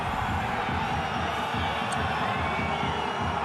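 A rugby stadium crowd at a Nevers home match keeps up a steady mass of jeering voices, a broad unbroken rumble of the whole stand heard from a distance with no single voice standing out.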